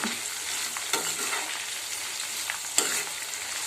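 Crushed garlic fries and sizzles in a pan on a gas stove for a garlic churumuri, a steady hiss with a few sharp clacks of stirring against the pan, close and alone.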